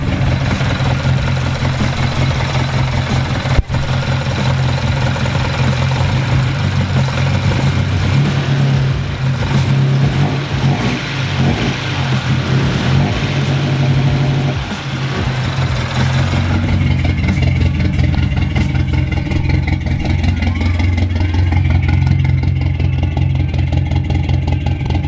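A repaired 1998 Acura Integra engine runs steadily for the whole stretch, a continuous mid-low drone with rising and falling revs near the middle, loud and close with no talking.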